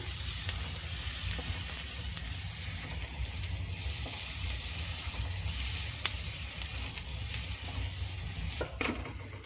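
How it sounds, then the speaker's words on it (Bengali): Chopped onion frying in a pan, a steady close sizzle with a low background hum that continues throughout, ending with a brief clatter. "এবার পেঁয়াজটা ভেজে নেব"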